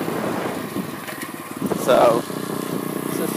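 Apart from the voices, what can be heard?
SSR pit bike engine riding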